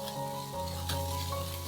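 Chili peppers and minced garlic hit hot oil in a wok, giving a steady close sizzle with a brief stirring scrape partway through.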